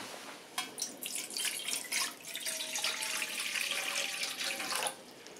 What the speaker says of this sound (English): So filling up with water.